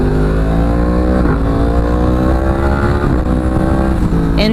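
Yamaha R1S sport motorcycle from 2016 revving hard while being ridden, its steady loud engine note climbing and dropping in pitch through several rising sweeps, close and continuous, with a brief sharper burst near the end.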